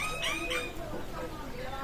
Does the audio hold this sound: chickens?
yes